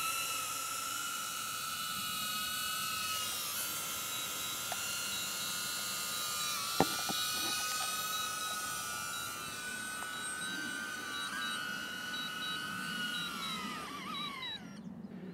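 A DJI Avata drone fitted with Master Airscrew propellers returns to land on a windy, cloudy day, giving a steady high-pitched whine and hum that holds level, then fades and drops away near the end.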